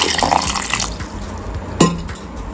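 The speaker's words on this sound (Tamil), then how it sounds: "கொஞ்சமா தண்ணி." Water is poured in small amounts into a blender with milk for a homemade street-style drink: a splashing pour at the start, then softer trickling and a sharp clink of glass or container near the end.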